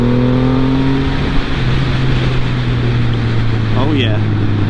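Triumph Rocket motorcycle engine pulling hard while overtaking, a loud steady drone with rising harmonics as it accelerates, wind rush throughout and a brief higher whine near the end.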